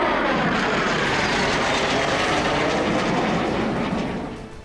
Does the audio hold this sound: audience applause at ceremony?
no